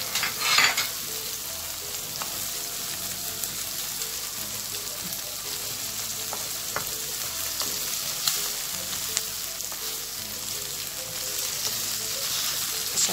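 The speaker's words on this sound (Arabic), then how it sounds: "هشوحها شوية حلوين كده قبل ما احط الكبدة عشان متاخدش سوا" Chicken gizzards, cut into small pieces, sauté in a hot pan with a steady, close, rain-like sizzle that runs continuously throughout, with occasional faint clicks of stirring.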